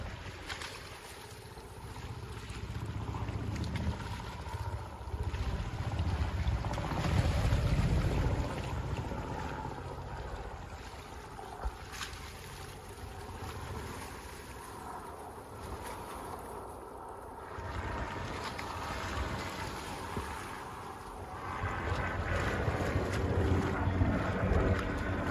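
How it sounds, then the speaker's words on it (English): Waves wash against the shore of Governors Island, New York, beneath strong winter wind gusting over the microphone, a continuous low roar that swells and eases with no voices. "Let's enjoy the sound of the waves and helicopters."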